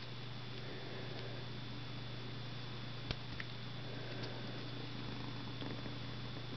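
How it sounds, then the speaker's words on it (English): A cat's soft, steady purr hums quietly and close, with a faint tick or two and a steady electrical hum underneath. "she's purring"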